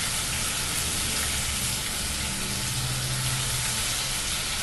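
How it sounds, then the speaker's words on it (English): Ginger garlic paste frying in a hot pan with cumin seeds, giving off a steady, loud, even sizzle with a constant hiss that holds throughout. "When you add in your ginger garlic paste, just lower the heat. Be careful, the ginger garlic paste may splatter."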